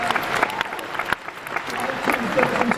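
Audience applause at a Doctor Who Festival cast panel, a steady wash of clapping lasting the whole few seconds, with voices and chatter mixed in underneath.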